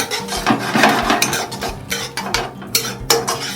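A spoon scrapes and clinks against a pan while stirring a honey garlic sauce with soy sauce and ketchup, in a steady rhythm of close, busy metallic strokes.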